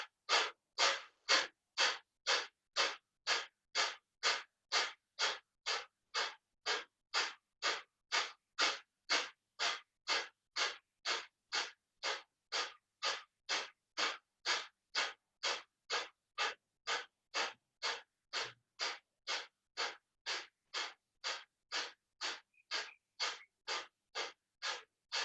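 Yoga breathing practice: about forty quick, forceful breaths come in an even rhythm, each a sharp airy puff. They are close, steady and alone, with no speech.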